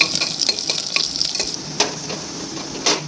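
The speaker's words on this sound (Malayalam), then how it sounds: "ഒരു 2-3 അരി വെളുത്തുള്ളിയും ഒരു ചെറിയ കഷ്ണം ഇഞ്ചിയും കൂടെ അരിഞ്ഞത് അതിനകത്തേക്ക് ഇട്ട് കൊടുക്കാം" Chopped garlic and a small piece of ginger sizzling in a hot pan for an egg curry, a steady close frying hiss broken by soft stirring scrapes and a couple of sharper spikes.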